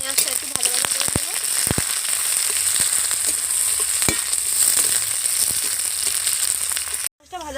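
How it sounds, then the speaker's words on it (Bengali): Chopped onions fry in a pan with bay leaf, dried chilli and cumin, giving a steady close sizzle broken by sharp clinks of a spatula scraping the pan, then a sudden brief drop near the end. "পেঁয়াজটা ভাজা ভাজা করে নিয়েছি"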